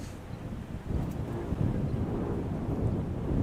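Gusty wind sweeps across a high school baseball field, buffeting the microphone with a low, rolling rumble that swells and eases in uneven surges, moderately loud and without speech.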